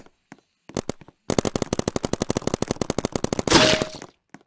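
Rapid P90 submachine-gun fire in a Roblox shooter: a few isolated shots, a pause, then a long fast automatic burst of evenly spaced loud cracks, ending in a noisy blast-like burst before falling quiet.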